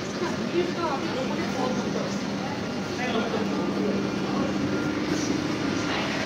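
An air-conditioned Eastern Railway local train rumbles steadily along the tracks, a continuous close rolling roar with faint clatter throughout, and no voices.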